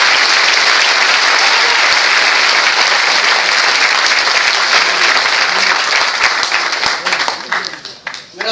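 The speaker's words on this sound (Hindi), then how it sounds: "ये खड़े हुए लोगों के लिए जोरदार ताली होना चाहिए।" Audience at a business seminar applauding: dense, loud, sustained clapping from many hands that starts to thin and break up toward the end.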